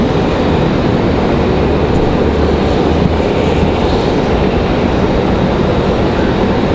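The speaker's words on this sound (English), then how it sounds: "Frontier Airlines, Frontier 2225 headed off to Denver, Colorado. That A320 Neo." A Frontier Airlines Airbus A320neo jet departs toward Denver, giving a steady, broad roar that holds at even loudness for the whole stretch with no voices over it.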